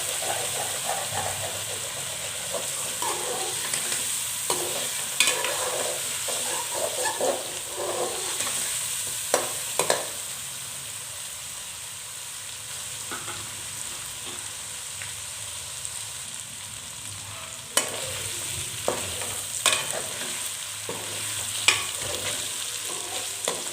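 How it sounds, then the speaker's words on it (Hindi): Boiled chicken fries in a pan, a steady close sizzle and hiss with occasional scrapes and knocks of a spoon as it is stirred. "तो 5 मिनट तक चिकन को भून लेंगे।"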